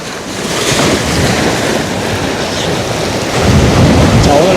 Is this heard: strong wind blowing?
yes